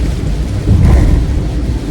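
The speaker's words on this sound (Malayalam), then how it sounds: "ഗംഭീര മഴ" Heavy monsoon rain during a ride through Mumbai near the Bandra bridge, a dense steady roar with low rumbling that swells briefly mid-clip, loud and continuous with no talk.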